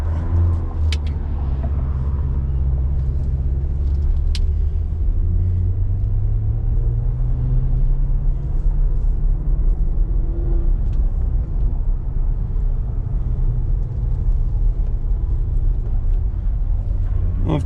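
A 2006 Maserati GranSport Spyder pulls away in drive on a busy road, its low engine rumble steady and close throughout with a brief rising rev near the start, no voices over it.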